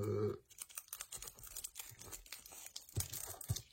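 Plastic shrink film being torn and crinkled off a Blu-ray plus DVD Digipack combo edition, close and fairly quiet, with a loud rip at the start and then scattered crackles and tugs, no talking.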